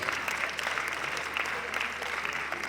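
A crowd at a conference in Ile Ife gives a steady round of applause for a historian, sustained and fairly even throughout, with a faint voice underneath.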